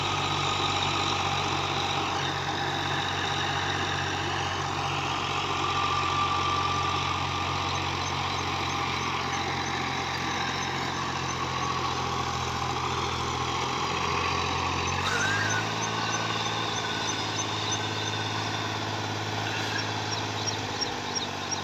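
A Fiat 450 tractor, Italian-made, runs with a rotavator attached, its engine a steady, loud, continuous drone close by that shifts pitch and load about two-thirds of the way through.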